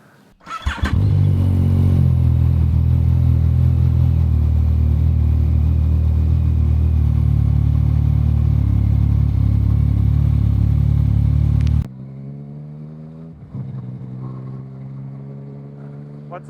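A car engine cold start: a loud, close roar catches and holds a rough, steady high idle for about eleven seconds, then drops abruptly to a quieter, lower idle.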